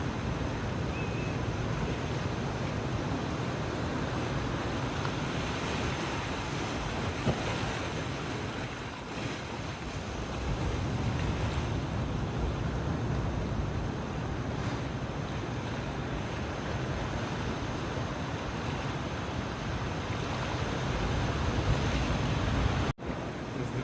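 Waves wash continuously onto the small beach of Playa del Diablito on Gran Canaria, a steady broad surf roar mixed with wind buffeting the microphone, with no voices.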